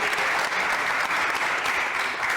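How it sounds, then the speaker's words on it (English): Steady, dense applause from an indoor audience after a short presentation at an ocean biodiversity event, continuous and even throughout with no speech over it. "I would ask you an applause for this short presentation of Frederik."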